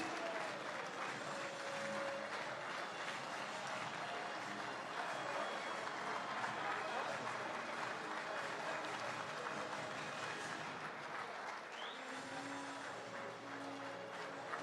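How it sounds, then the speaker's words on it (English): A large crowd applauds at a soccer awards ceremony, a broad, sustained roar of clapping heard at a distance with faint voices mixed in and a brief tonal sound near the end. "A big round of applause for our presentation party."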